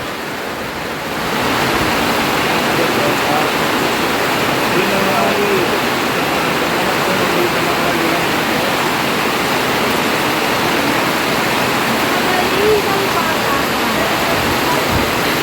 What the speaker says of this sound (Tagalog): Ayan, malakas po ang ulan